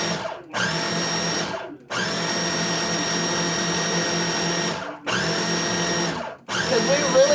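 A blender pulses pumpkin into puree in loud whirring bursts, four separated pulses of a few seconds each with brief gaps between them, close up and without talking.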